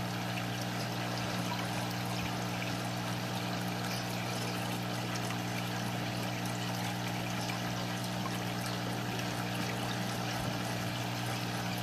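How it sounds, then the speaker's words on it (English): Treated water is poured into the reservoir of a Fluval AquaClear 50 hang-on aquarium filter to prime it: a continuous close rushing splash over a steady low motor hum, with no talking. "you fill up the reservoir again"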